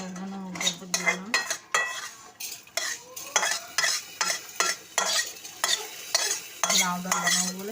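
Mung dal being fried and stirred in a pan for a bottle gourd dal, with repeated scraping strokes of a spatula against the metal pan in an irregular rhythm, close and fairly loud, over a soft sizzle.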